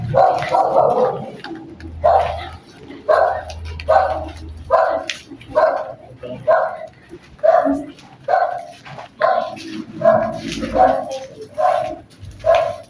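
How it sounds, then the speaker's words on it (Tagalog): A dog barks over and over in a steady rhythm, fairly close, while people talk in the background. "Habulin tayo ng aso."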